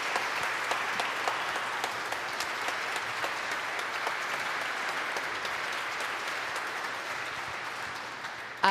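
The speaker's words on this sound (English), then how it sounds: "let's give him a round of applause" A concert audience gives a round of applause to a jazz trombonist before his sextet plays at Trinity Church Wall Street. Steady, fairly soft clapping from a sizeable crowd carries on throughout without speech.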